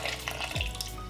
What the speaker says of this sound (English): I'm gonna add a little bit more water. It's about another cup of water.